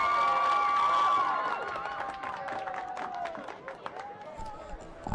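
A stadium crowd at a high school senior-night football game cheers and claps for the football and cheer seniors, with a loud roar that gradually fades into scattered shouts and applause.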